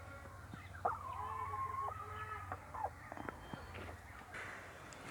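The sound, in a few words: chickens clucking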